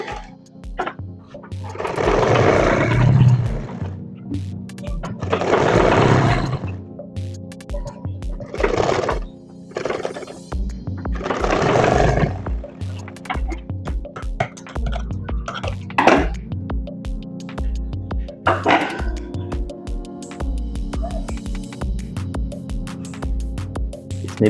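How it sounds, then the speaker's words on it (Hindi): A sewing machine stitches a pant seam in several short bursts of a few seconds each, separated by pauses. A person speaks between and over the runs against a steady low hum. "बैक में भी सिलाई लगाने के बाद इसको भी इसी तरह से सीधे में सिलाई लगानी है"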